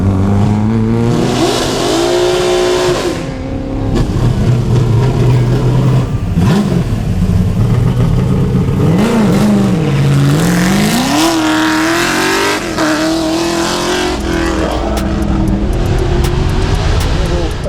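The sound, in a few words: Ford XY Falcon historic touring car racing at hillclimb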